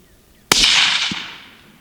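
A single sharp 300 Blackout rifle shot from a 16-inch Ruger American firing 125gr Sierra MatchKing rounds outdoors, a loud crack followed by a long fading echo, with a faint second report after.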